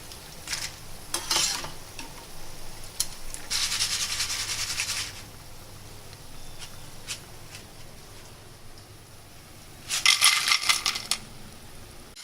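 Rice flour kurkure snacks frying in hot oil: a steady low sizzle runs throughout, with louder crackling bursts near the start, in the middle and toward the end, with no voices.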